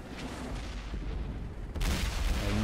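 Two heavy tank cannon blasts in World of Tanks, the second louder and rumbling, over a constant low engine drone.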